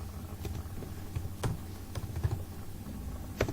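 Quiet typing on a computer keyboard, a short run of soft, irregular key clicks with a few sharper taps.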